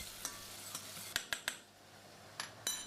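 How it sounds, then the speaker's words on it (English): Shallots stewing gently in melted butter in a pot over low heat, giving a soft, quiet sizzle with several sharp clinks of a utensil against the pot. "melt 2 tablespoons of butter in a pot and stew the shallots in it over low heat"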